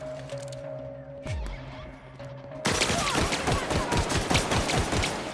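Gunfire rattles in the sci-fi video game The Outer Worlds, a rapid string of sharp shots at moderate loudness following a quieter stretch of ambient tones and a low swoosh.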